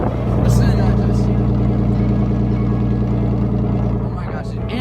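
A car with a self-fabricated exhaust that has two exhaust leaks, giving a loud, steady raspy drone close by, holding constant for several seconds before easing slightly at the end.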